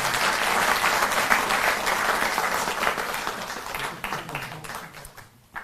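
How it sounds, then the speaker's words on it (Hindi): Loud, sustained applause from a crowd at a Delhi public gathering with the Chief Minister, steady broadband clapping that gradually thins and fades near the end. "तो एक बार जोरदार ताली बजती रहें"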